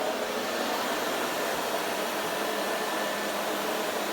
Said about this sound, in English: or a blow dryer.